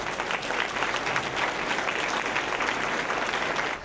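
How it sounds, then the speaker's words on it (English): A city meeting audience applauds, dense, steady clapping filling the room at moderate loudness from start to finish with no talk over it. "you need to give him another round of applause, please"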